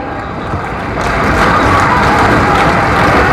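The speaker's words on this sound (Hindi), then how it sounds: "तालियां बजती रहनी चाहिए।" Large crowd applauding and cheering at a public event in Varanasi where houses and health cards are handed to beneficiaries, a loud, continuous roar of clapping that swells after the first second and stays full.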